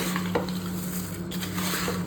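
Steady sizzling from a hot pan with a spoon scraping and stirring through fried poha, continuous and close, no voices.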